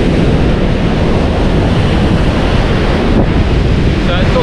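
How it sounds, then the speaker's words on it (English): Strong wind buffeting the microphone over rolling surf on Ninety Mile Beach at low tide, a loud, constant roar of gusts and waves without a break. "if you can put up with that wind in your face"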